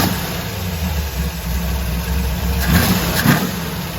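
A car engine idles steadily at close range on its first start-up after six months sitting dormant, a low even rumble with a couple of brief bumps near the end, no talking.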